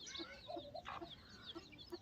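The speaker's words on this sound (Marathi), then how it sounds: "देशी देशी कोंबड्याची पिल्लं आहे ती" Small native-breed chicks peep and cluck in a steady series of short calls, fairly close, with bright chirps scattered over about two seconds.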